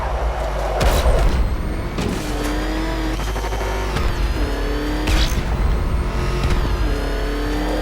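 A car driven hard during a chase in the video game Batman Arkham Knight, with a loud continuous engine roar, rising revs, booming impacts and brief tire squeals, close and busy throughout.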